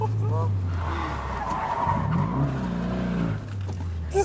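Car with an open differential and no power steering drifting, tires skidding and squealing over a rising engine drone, close and loud, with people talking and shouting over it.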